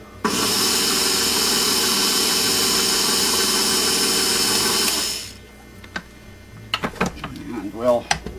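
An electric stand mixer runs steadily for about five seconds while beating chocolate cheesecake batter, loud and close with a constant whine, then stops; scraping and handling noises follow.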